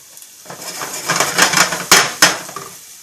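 Onion and red peppers hit a hot frying pan, giving a broad crackling sizzle that builds over a second or two, punctuated by two sharp metallic clanks of a utensil against the pan near the end.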